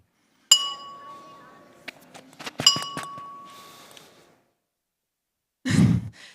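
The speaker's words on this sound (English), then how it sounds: "which we can actually hear in this glass when we flick it" A drinking glass is flicked twice, each tap giving a sharp clink followed by a sustained clear ringing tone that fades over about a second, close and alone, then a brief breathy sigh at the end.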